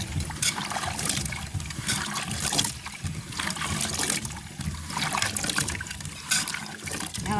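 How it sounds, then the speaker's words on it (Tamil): Freshly dug tapioca roots being washed in water outdoors, with continuous sloshing and splashing as they are rubbed clean, the churning rising and falling in waves, close and fairly loud, with no voices. "இப்போ நாங்கள் வட்டி எடுத்த கிழங்குறதா கழுவி எடுப்போம் இல்லை வடிவாக கழுவி எடுப்போம்"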